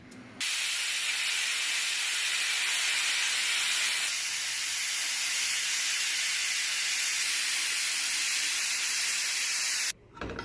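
A pressure cooker on a stovetop steams while cooking palak tomato dal, giving a loud, steady hiss that holds almost unbroken for about ten seconds, shifting slightly in pitch partway through.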